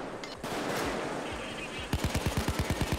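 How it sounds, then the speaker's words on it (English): Gunfire in the video game Payday 2 during a sniper attack: a rapid string of sharp, punchy shots fires in quick succession after a stretch of noisy background action. "Got shot by the sniper."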